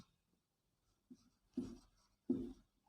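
An equation is written out by hand, producing three short, scratchy strokes spaced about half a second apart, quiet and close in an otherwise silent room.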